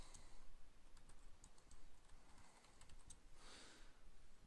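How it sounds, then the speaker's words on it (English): Quiet keystrokes tapping out commands on a computer keyboard in short irregular bursts, a low steady background hum underneath, no voices. "let's just type some commands here."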